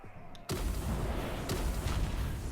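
Pirate ship cannons fire in the video game Bitmap Bay, a loud booming blast that opens a rumbling barrage, followed by a second thud about a second later.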